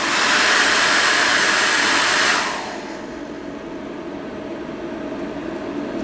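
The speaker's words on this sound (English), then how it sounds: "that is the sound of the fan" A Bluetti EB55 portable power station's cooling fan whirs as a steady, moderate hiss, continuing alone after a louder blowing appliance cuts off partway through.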